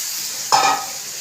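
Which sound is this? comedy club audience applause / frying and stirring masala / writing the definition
frying and stirring masala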